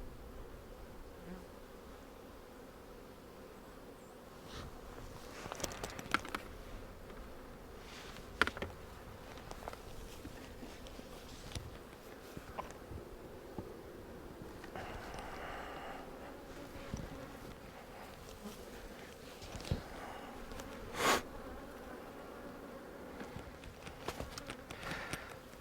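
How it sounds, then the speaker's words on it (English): A steady, low buzzing drone of many honey bees in a hive fills the air, with occasional closer passes and faint clicks and knocks on top. "See how many bees they've got in here"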